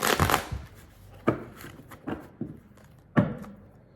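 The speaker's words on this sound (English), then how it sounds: "So let's shuffle some more cards." A deck of tarot cards is shuffled by hand in several bursts: a long riffle at the start, then sharper slaps and flutters spaced about a second apart, close and fairly loud with no talking.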